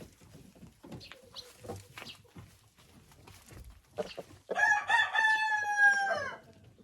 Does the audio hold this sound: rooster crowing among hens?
yes